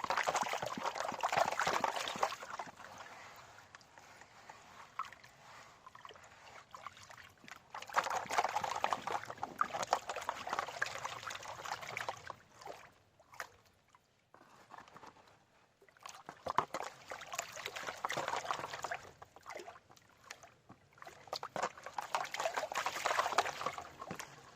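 Water sloshes and pours in a gold prospecting pan as muddy material is rinsed out during winter digging, coming in long swishing waves that rise and fall, close and fairly loud over a steady background.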